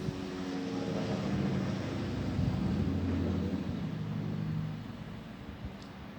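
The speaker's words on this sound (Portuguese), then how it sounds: "Perceba que tá passando um helicóptero agora." Helicopter passing overhead during an indoor lesson, a low rumbling drone with faint rotor thumping that holds steady, then eases slightly after about five seconds.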